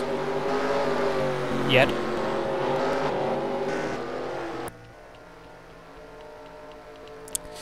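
Race car engines from a NASCAR Busch Grand National Series video game at North Carolina Speedway (Rockingham) drone loudly as the field rolls off, a steady multi-engine roar that drops to a lower hum partway through, with a brief voice over it.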